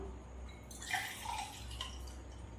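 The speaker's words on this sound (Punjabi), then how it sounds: "ਪਾਣੀ ਪਾ ਕੇ ਜੱਗ ਭਰ ਲਿਆ ਜੀ ਆਪਾਂ" Water is poured into a jug in a home kitchen; a soft splashing burst rises after a quiet start, then trails off into faint trickling.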